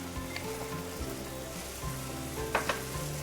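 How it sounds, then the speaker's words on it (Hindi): Curd spooned into a hot pan, giving a steady fry-and-sizzle with a couple of sharper crackling bursts near the end, no voices. "इसमें हम डालेंगे थोड़ा सा कर्ड"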